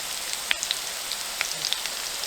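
Steady morning rain with some wind patters on a surface, a continuous hiss with scattered louder drips and taps, no voices.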